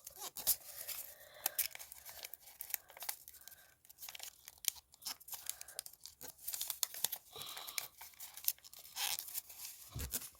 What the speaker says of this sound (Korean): 이 다음에 다 위로 앞으로 접어주세요.